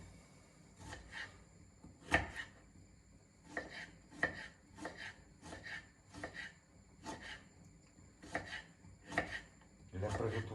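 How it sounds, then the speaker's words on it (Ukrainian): Fruit for a breakfast porridge is sliced with a knife on a board: about a dozen crisp, evenly spaced cutting strokes, close and fairly quiet, with no talk. "от нарізаємо"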